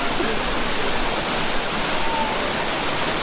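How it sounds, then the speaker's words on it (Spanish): Water rushing at Erawan waterfall in Thailand, a steady, loud, broadband roar that fills the whole stretch without a break. "Es el chorro de agua en la catarata que vine a ver."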